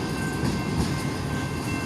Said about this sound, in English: Just know this train is not stopping anytime soon.